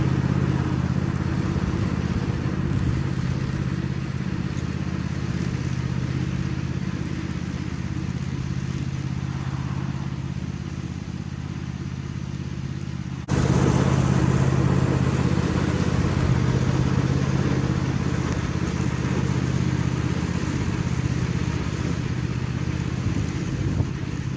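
A small red tractor's engine drones steadily while cutting grass along an entranceway, a continuous mid-pitched hum with a slight step up in loudness partway through.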